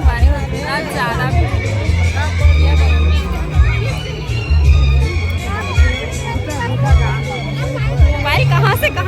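Dense crowd babble fills a packed wedding reception in Bemetara, with many overlapping voices, some children shouting and steady low music underneath, continuous and loud throughout.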